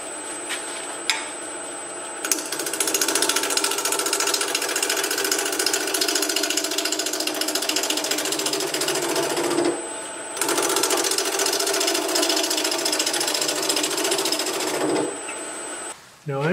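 A wood lathe running at about 900 RPM for off-center turning, giving a steady close mechanical whir with a ticking, rattling texture that cuts out briefly and resumes.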